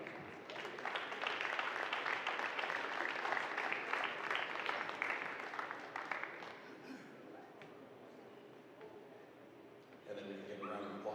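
Crowd applause in a gym on basketball senior night, a broad wash of clapping and cheering for about six seconds that fades into murmur, followed by an announcer speaking.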